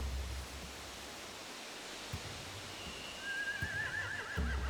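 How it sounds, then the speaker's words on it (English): Horses whinny in The Walking Dead: The Final Season video game, one rising, wavering neigh arriving near the end over a steady hissing ambience with soft low thumps. "They have horses."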